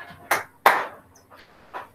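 Hands clapping in a school physical education dance class, a few sharp claps spaced unevenly over two seconds, close and fairly loud, with no talk.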